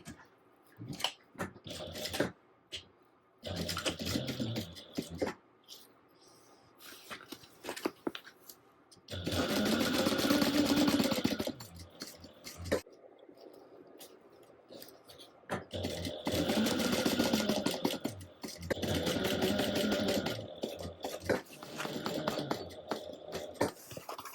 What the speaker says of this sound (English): All right, so we're going to stitch this at 1/2 inch seam allowance.